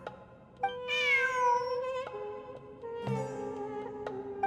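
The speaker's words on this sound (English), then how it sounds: "Look, a cat." A cat in the video game Genshin Impact gives a few drawn-out, tonal meows in close succession, clear and fairly near over quiet game ambience.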